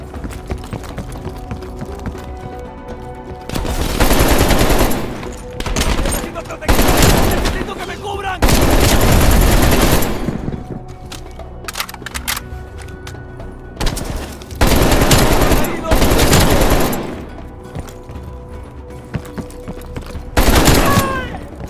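Repeated bursts of automatic gunfire in Call of Duty: Black Ops Cold War, loud and close, arriving in several heavy volleys separated by quieter stretches with voices shouting between them.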